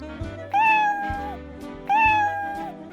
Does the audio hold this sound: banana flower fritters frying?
no